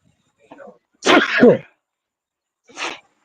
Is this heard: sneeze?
yes